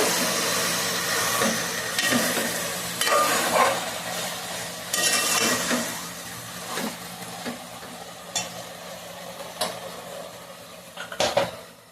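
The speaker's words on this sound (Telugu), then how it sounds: "విధంగా అయితే చక్కగా నూనెలో మగ్గుతూ ఉన్నాయండి" Flat beans and tomato cooking in oil in a pot, a constant sizzle under frequent stirring clatter and spoon knocks against the pan, with a couple of sharper metal clinks near the end.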